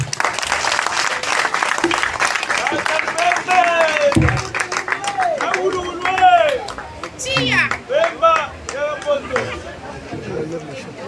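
Audience applause at an official visit to a weather office, with sustained clapping mixed with crowd chatter and voices, while a person talks and shouts over it.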